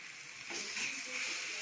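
Paneer with vegetable masala frying in a pan, a soft continuous sizzle and hiss that swells slightly partway through, with a voice talking over it.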